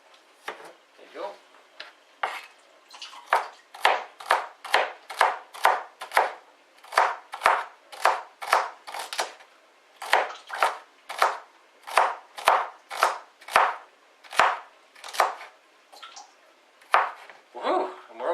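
Rhythmic knife strokes chopping vegetables for beef and vegetable soup on a board, about thirty crisp close cuts in a steady pace with brief pauses.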